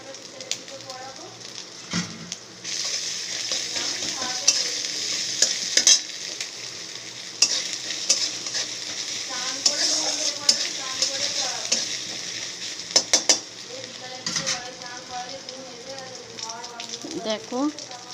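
Chopped onion fries in a pan with a steady sizzle as a spoon stirs it, scraping clicks scattered throughout; a voice speaks intermittently over the cooking.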